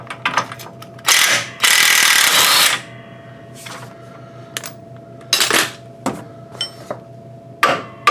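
A ratchet clicks away at the control arm bushing bolts on a 1994 Saab 9000 in loud fast bursts, with separate metallic clinks and taps of tools between them.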